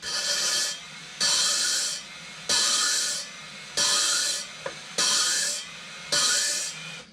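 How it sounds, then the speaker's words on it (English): A low-speed drill spins an LSX cylinder head valve against its seat with lapping compound, making six evenly spaced gritty rubbing bursts, each followed by a short pause as it backs off. "And you're just going to tap it against the seat, let it rub, go back off, let it rub, go back off"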